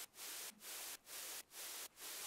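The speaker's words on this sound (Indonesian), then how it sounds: "Yang wajib banget di setiap track gue pasti ada white noise." A white noise layer in a music production track pulses in five even, gated bursts about half a second apart, quiet and hissy, with no voices.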